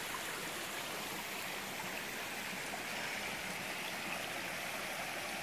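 A fast-flowing mountain stream at a clean water source pours and gurgles steadily, a continuous broadband rush close to the microphone with no break and no voices.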